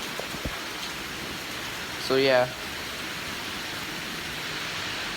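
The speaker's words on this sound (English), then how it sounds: "You can see there's a lot of rain, lots of wind." Heavy rain and wind during a hurricane make a steady, dense hiss that runs through the whole clip, with a brief spoken remark in the middle.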